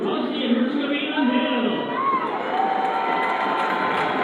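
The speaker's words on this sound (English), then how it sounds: "Bit of a cheer going over the crowd as they heard the score of the United States game" Football crowd in a stadium cheers in a steady, dense roar that fills the whole stretch without a break.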